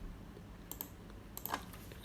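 A few quiet, close keystrokes on a computer keyboard while a colour value is entered in Blender 2.9, with sparse isolated clicks over a faint background hum.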